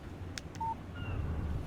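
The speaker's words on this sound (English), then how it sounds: "Text message from Barry" A short electronic text message alert from a phone in the Alan Wake video game: a couple of brief soft clicks, then a clean single beep and faint tones over a low steady background hum.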